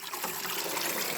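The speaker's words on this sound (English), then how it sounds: "I'll put some extra water in there for these guys" Water pours steadily into a plant pot, a continuous splashing rush close by with no voices.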